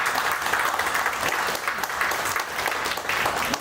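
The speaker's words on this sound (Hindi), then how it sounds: "तो इस कंपनी के लिए एक बार जोरदार ताली।" Steady audience applause at a live product demonstration event, a continuous even wash of many hands clapping at fairly close range.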